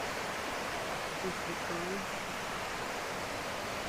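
Busay waterfall in Maticdum, Tandag City, Surigao del Sur, Philippines, gives off a soft, constant rushing hiss, with faint brief voices near the middle.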